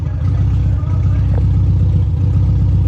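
A 1973 VW Bus engine runs loud and steady up close, its low rumble holding with a slight rise as it is revved, a brief higher tone briefly riding on top.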